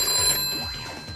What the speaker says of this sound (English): The Pash phone's going, ladies and gentlemen.